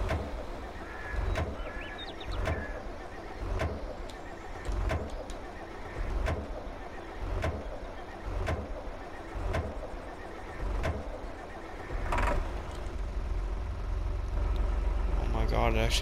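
An old tractor in Farming Simulator 22, left sitting for years, cranks with regular clicking beats before its engine catches near the end, rising into a steady low rumble.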